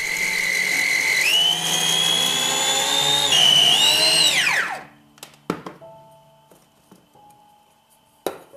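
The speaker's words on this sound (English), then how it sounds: "leaves are finely chopped in the blender" A blender whirs loudly at high speed for several seconds while chopping wild garlic leaves, its pitch shifting as the load changes, then spins down to a stop, followed by a few clunks and taps.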